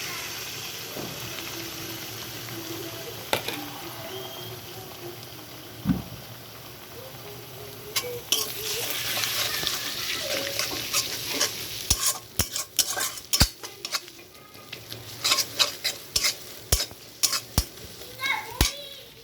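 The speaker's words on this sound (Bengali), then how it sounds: "তো এখানে আমি একটা ডিম গুলে রাখছি, ডিমটা আমি দিয়ে দিলাম।" Beaten egg sizzles in a pan with fried onion and chili, softly at first, then a burst of repeated scraping stirs and frying; children's voices are faint in the background.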